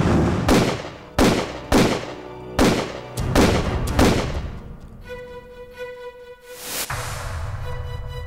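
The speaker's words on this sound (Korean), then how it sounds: "안중근의 저격은 정확했다." Dramatized pistol shots in a reenactment of the assassination of Ito Hirobumi at Harbin Station, five loud, sharp cracks in quick succession, each with a ringing tail, followed by a lingering tone and a final burst.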